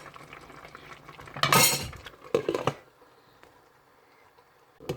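A lid is set onto a pot of okra sauce with fresh okra, giving a couple of short clattering metallic clanks close by, followed by quiet kitchen background and no speech.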